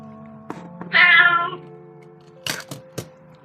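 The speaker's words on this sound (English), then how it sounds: "Got a noisy cat with us." A pet cat gives a loud, drawn-out meow close by, with a few short clicks and taps around it in an otherwise quiet room.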